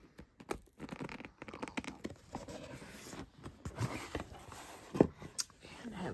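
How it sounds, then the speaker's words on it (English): A blade cuts the seal on an RC drift car box, an MST RMX 2.0, making close scratchy tearing and crinkling sounds in short bursts with one sharp snap near the end, all quiet and intermittent. "cut the seal"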